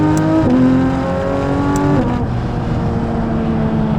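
Porsche 992 GT3 RS fitted with a RYFT exhaust, its engine revving hard and loud close by, the pitch climbing and shifting in steady sustained bursts with no talk over it.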